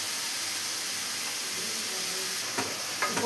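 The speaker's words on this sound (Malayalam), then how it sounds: "ഓയിലിൽ നമുക്ക് ഇതിലോട്ടുള്ള സവാള ഒന്ന് വഴറ്റിയെടുക്കണം" Sliced onions frying in oil for mutton biryani, with salt added, give a steady, even sizzle and hiss throughout, joined near the end by a few soft clinks of stirring.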